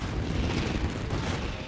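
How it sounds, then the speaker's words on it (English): Fireworks burst in the video game Genshin Impact, a dense run of booming, crackling explosions close and loud, rolling together without pause. "Yoimiya, this is turning into a bit of a fireworks display"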